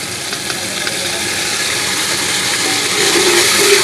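Green chili, garlic and ginger paste frying in hot oil for white yakhni pulao gives a loud, steady, close hiss that swells slightly toward the end, with no voices.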